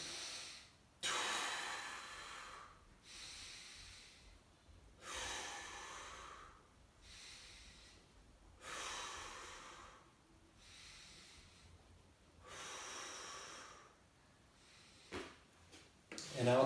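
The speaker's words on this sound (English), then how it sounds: "So I take in a breath" Slow, deep breaths taken during an inguinal hernia exercise, in five or six long audible inhales and exhales, each rising then fading, close to the microphone with quiet pauses between.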